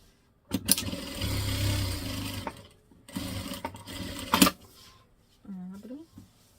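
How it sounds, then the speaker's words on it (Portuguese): A sewing machine stitches close to the fabric edge of a small organiser box in short whirring bursts separated by pauses. Someone speaks briefly near the end. "Agora venho por esse lado e passo uma costura bem na beiradinha."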